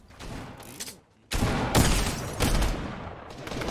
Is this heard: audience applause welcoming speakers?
no